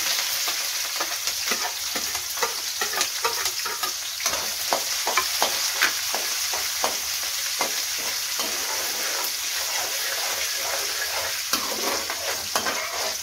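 Onions and green chilies sizzle steadily in oil in a pan while a utensil scrapes and stirs in repeated strokes, close up, with no talking.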